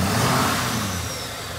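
A 2020 Ford F-250 Powerstroke diesel revs loudly close by, its deep, throaty exhaust holding steady, then easing slightly over under two seconds.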